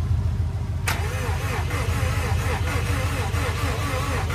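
A Saab 9-2X Aero engine cranks and catches after about a second, then settles into a steady, loud idle close by.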